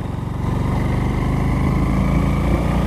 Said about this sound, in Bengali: অ্যাপাচির ইঞ্জিনের যে পাওয়ার রে